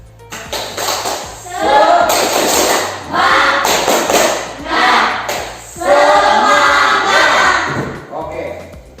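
A classroom of pupils doing the tepuk semangat, an Indonesian spirit clap, with loud, close claps in quick rhythmic bursts mixed with children's voices chanting along.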